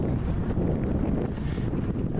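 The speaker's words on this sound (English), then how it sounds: "the strong wind coming from the side" Strong crosswind buffets the microphone in a low, continuous roar with gusty fluctuations while docking a boat; no voices are heard.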